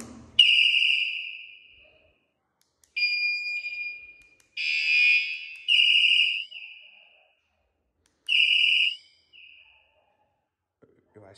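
A bicycle alarm sounds in a series of shrill, piercing electronic beeps and warbling siren bursts, each a second or so long, separated by silent gaps.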